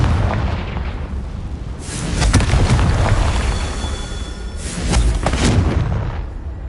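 The Confringo blasting spell in Hogwarts Legacy erupts in two heavy, rumbling explosive bursts that swell and fade over a continuous loud roar of game noise, with no talking.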